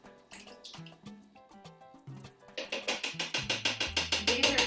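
Canned crushed tomatoes pour and glug from large cans into a cooking pot, a series of wet plops and splashes that grow quicker and thicker toward the end, close and fairly quiet.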